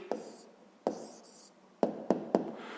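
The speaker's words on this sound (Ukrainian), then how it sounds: "Записуємо тоді відповідь." An answer being written by hand for a 5th-grade math exercise, heard as faint close pen strokes. A few short scratches come with small taps between them, and there is no speech.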